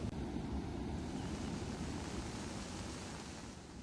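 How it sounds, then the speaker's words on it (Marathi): Heavy floodwater pours over a bridge in Dharashiv district during torrential rain. A steady, faint rushing roar continues without pause, with no voices. "अजूनही पाणी त्याच पुलावरून मोठ्या प्रमाणात वाहतंय"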